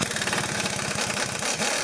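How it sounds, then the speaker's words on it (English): An air impact gun hammers at a wheel bearing bolt during a wheel bearing change, giving a loud, close, rapid rattling burst that holds steady with no talking. "So this is going to be easier done with the air gun."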